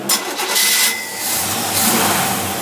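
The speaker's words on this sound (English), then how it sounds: "it's going to backfire, quit, pop, fart, and die" A carbureted car engine with a Holley 750 double-pumper carburetor cranks and catches, then runs roughly with uneven surges, backfiring and stalling, loud and close.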